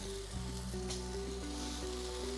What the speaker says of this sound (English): The one thing you want to hear for is the sizzle, because the woks are fast to evaporate the water.